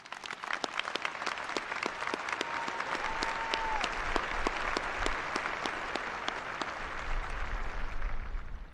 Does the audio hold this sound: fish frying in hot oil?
no